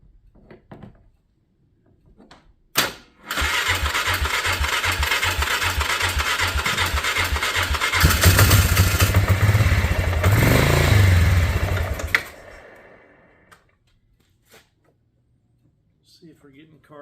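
A 2010 Polaris 400 AWD ATV cranks again after a sharp click, chugging rhythmically for about nine seconds. It roughens and swells partway through before cutting off into near silence with faint handling noises.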